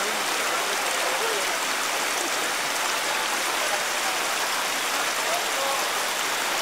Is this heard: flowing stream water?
yes